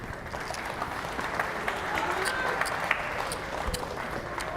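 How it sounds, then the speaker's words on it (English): An audience applauds at a poker final table during a high-stakes championship, with steady sustained clapping and crowd noise throughout while a commentator talks over it. "Round of applause there."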